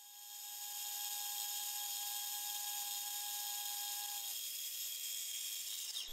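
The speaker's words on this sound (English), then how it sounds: "remember not to press too hard on the drill" A drill bores through the steel crank web of a Stuart model oscillating engine in the workshop, a steady high-pitched whine with hiss, one tone dropping out partway as the cut continues evenly.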